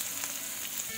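Ginger sizzling in a frying pan with softened onions, a brief steady hiss of frying, close and even, with no voices.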